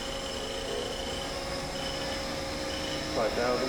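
A Haas 5-axis universal CNC machining center spindle running at 2,500 RPM gives off a steady, even mechanical whine and hum at moderate level, with a brief louder swell near the end.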